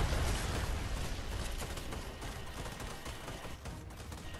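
Gunfire in a Fortnite Battle Royale match as players shoot crystals, a dense continuous crackle of rapid shots and blasts filling the whole stretch with no talk.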